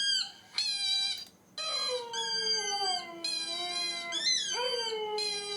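Huskies howl in long, rising and falling harmonic wails, overlapping and continuous, with a brief gap before the chorus swells again.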